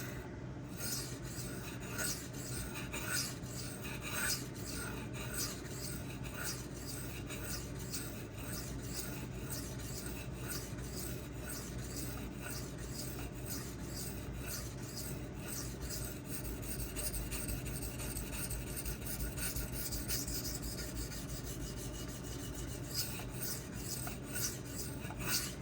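ZDP-189 and MagnaCut steel knives are sharpened on a Suehiro Debado whetstone, giving a steady, close, quiet rasping scrape made of repeated rhythmic strokes across the stone, with no voices.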